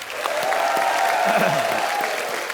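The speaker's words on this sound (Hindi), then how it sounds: "जोरदार तालियां" Enthusiastic applause from a TV comedy show studio audience on The Kapil Sharma Show, a dense crowd clapping steadily while a few voices call out underneath.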